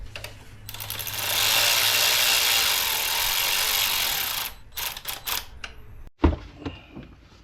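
A ratchet tightening a bolt on the K&N intake of a 2025 Dodge Durango R/T: a fast continuous clicking run lasting about three seconds, then a few short bursts of clicks and some handling clunks, close up.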